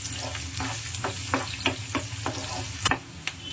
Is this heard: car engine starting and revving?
no